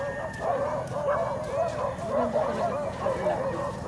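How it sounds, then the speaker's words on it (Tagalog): Dogs bark and yip repeatedly in the distance, a steady chorus under a noisy background hum. "ang iingay ng mga aso"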